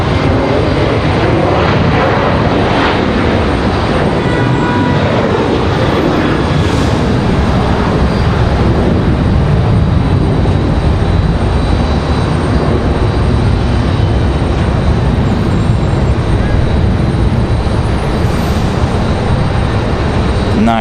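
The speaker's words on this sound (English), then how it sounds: "So we got an American Airlines headed down the runway." American Airlines airliner rolling down the runway at Raleigh Durham International for takeoff, a loud continuous jet engine roar that holds steady throughout.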